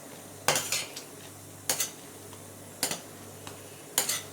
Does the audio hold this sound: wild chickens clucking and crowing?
no